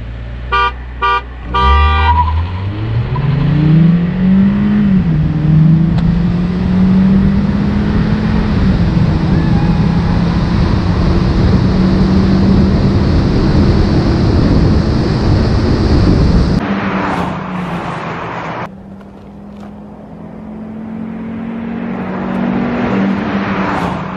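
An MG car with a 1.5 turbo engine accelerates hard, its engine note climbing and holding a loud steady drone for many seconds, preceded by a few short horn toots and ending in a drop and quieter stretch.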